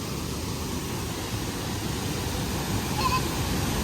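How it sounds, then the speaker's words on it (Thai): A waterfall in Laos rushes in a steady, loud broadband roar that stays constant throughout, with no talk. "น้ำตก"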